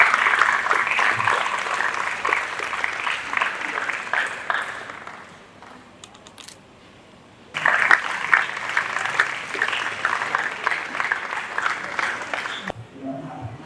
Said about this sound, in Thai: ขอเสียงปรบมือต้อนรับคุณคณิษฐาศรีะวันค่ะ